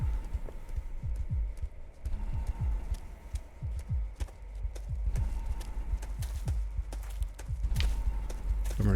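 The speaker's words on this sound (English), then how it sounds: "So I hear footsteps" Footsteps in the dark in the video game Apparition: a steady run of soft, low thuds, about two a second, over a constant low hum.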